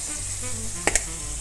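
Shrimp seasoned with cumin and garlic powder cooking in a pan, a steady close sizzle throughout with two brief sharp clicks near the middle.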